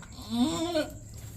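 A goat gives a single short, wavering bleat, close and fairly clear, over low background noise.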